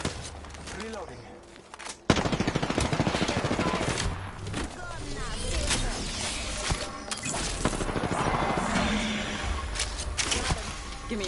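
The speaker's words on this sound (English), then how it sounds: "I'm getting shot at." Rapid automatic gunfire from the Apex Legends video game, loud and sustained in dense bursts after a brief quieter opening, with a sharp onset near two seconds and crashing impacts mixed in.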